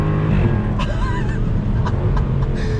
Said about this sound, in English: The shifts are so fast and you get a nice pop from the exhaust.